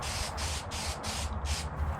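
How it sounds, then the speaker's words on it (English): Satin polyurethane finish sprayed from an aerosol can onto open-grain oak, heard as repeated steady hissing bursts of roughly a quarter second each with short gaps between them, close and fairly loud, with no voices. "The poly I'm spraying is satin, and I'll only apply enough to protect the finish."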